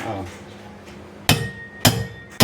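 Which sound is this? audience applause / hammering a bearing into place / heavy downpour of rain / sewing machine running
hammering a bearing into place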